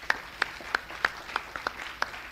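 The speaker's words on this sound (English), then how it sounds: "So can I just ask for a round of applause for all the submissions?" A hackathon audience gives a short round of applause, sparse distinct claps spaced evenly rather than a dense ovation, close and fairly light.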